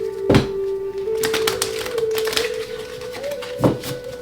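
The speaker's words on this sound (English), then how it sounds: "2 more shuffles." Tarot cards are shuffled in a few quick riffled bursts and snaps, crisp and close, over a faint steady background hum.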